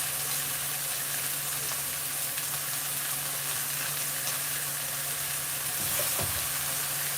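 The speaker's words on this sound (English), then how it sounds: "Pan-seared chicken." Chicken rib eyes sear in a hot pan like steak, a continuous dense sizzle and crackle holding steady throughout, with a brief scrape or clatter near the end.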